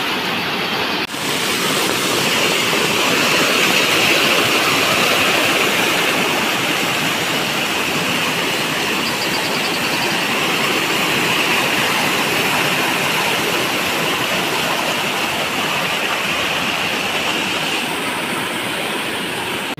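A small neighbourhood river in Konkan, swollen by torrential monsoon rain, rushes past in a loud, unbroken roar of churning water, close by and steady, with no voices.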